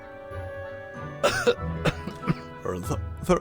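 Several short, deliberate throat-clearing coughs from a character in the video game Reverse 1999 come close and distinct, spaced out over soft background music.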